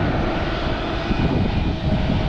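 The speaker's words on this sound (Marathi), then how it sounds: "एतियाड एअरलाईनचं विमान आहे ते बघा चाललं आहे उड्डाण करण्यासाठी" Etihad airliner taxiing toward takeoff at Mumbai's Chhatrapati Shivaji Maharaj International Airport, its engines giving a steady, loud, broadband roar that holds throughout without any voices.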